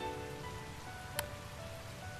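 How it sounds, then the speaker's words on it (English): Steady rain falls in a video game, an even hiss of drops on a surface with a single brief sharp tick partway through, no voices. "It's rainy in game."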